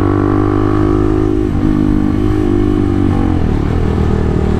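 A Motorstar Z200X 200cc sports bike with a modified SC Project exhaust idles and revs loudly up close, its deep throbbing engine note rising and falling in pitch with a constant rasp and no talk over it.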